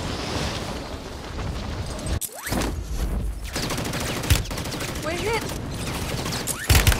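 Call of Duty video game gunfire crackles in dense, continuous bursts with sharp louder cracks standing out, mixed with explosions and a short voice calling out.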